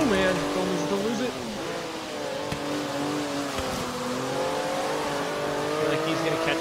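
Porsche 911 Turbo S in the Forza racing game swinging into a handbrake drift, its engine droning and shifting pitch steadily with tire noise beneath, while a person talks over the game sound throughout.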